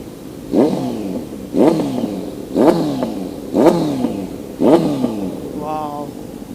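A Kawasaki Z900 motorcycle fitted with an SC Project exhaust blips its throttle five times in a steady rhythm, each loud, close rev rising sharply and then falling away, with a short rattly burble after the last one.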